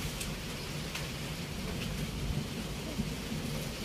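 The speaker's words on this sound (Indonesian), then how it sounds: "suara petir sudah bunyi." Steady rain pours down with low rumbling thunder rolling underneath, a continuous storm wash with no voices.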